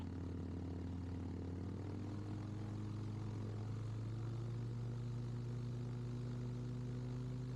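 Rotax-type engine of a Ximango motor glider running steadily on the ground with the propeller at minimum pitch, a loud continuous drone with a strong low hum close by, holding a constant tone throughout.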